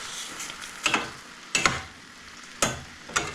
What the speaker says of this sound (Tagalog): magpiprito ulit ako patatas